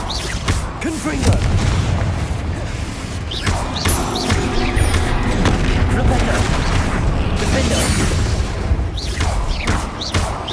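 Confringo spell blasts in the Hogwarts Legacy video game boom and thud repeatedly amid continuous combat noise, loud and close throughout.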